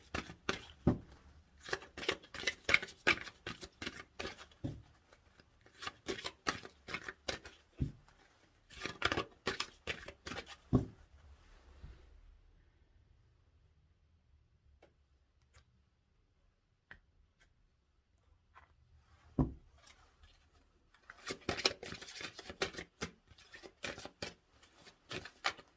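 Tarot cards are shuffled up close in quick crisp riffling bursts, clusters of sharp card slaps separated by quiet pauses, with no talking over them.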